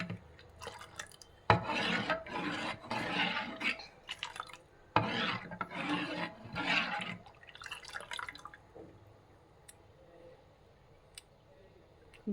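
A spoon stirs a pot of boiling water for ragi mudde, making loud, rhythmic scraping and sloshing strokes in bursts that fade to a quiet bubbling near the end.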